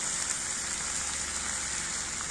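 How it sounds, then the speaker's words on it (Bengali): Water pours into a pan of spiced green jackfruit cooking on the stove, making a steady, even, hissing rush throughout with no voices. "কষানো মোটামুটি কমপ্লিট হয়ে গেছে এবার জল দিয়ে দেবো"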